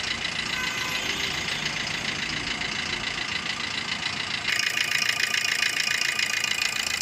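A 2008 Maruti Swift VDI diesel engine idles steadily close by, a dense mechanical clatter holding for the whole stretch and growing slightly louder and brighter partway through, with no talking.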